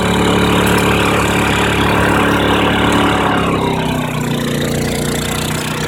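A portable generator with Eco Throttle switched off runs loud and steady at a constant engine drone, a close, continuous hum with no talk.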